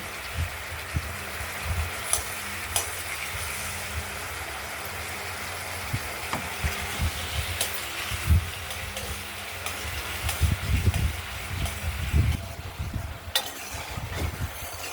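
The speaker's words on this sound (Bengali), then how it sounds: "মশলাটাকে আমরা এখনো নেড়ে যাচ্ছি।" Ground masala for a rohu fish curry is sautéed and stirred in a pan, giving a steady soft sizzle with repeated scraping and knocking strokes that grow busier toward the end, close and fairly quiet.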